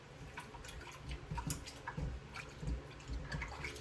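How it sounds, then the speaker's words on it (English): Soft splashing and dripping of water, with irregular sloshes like hands moving through a bowl, close and fairly quiet. "I'm going to wash my hands off in there so those particles fall down in that bowl"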